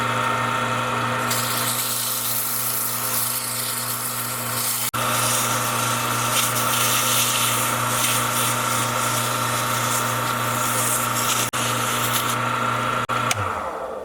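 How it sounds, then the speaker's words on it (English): A turned pen spins on a lathe while 220-grit sandpaper is held against it, giving a steady, loud motor hum under a continuous hissing rub, with a few brief clicks before the lathe winds down at the end. "I'm going to take a piece of 220 sandpaper and I'm going to sand it down"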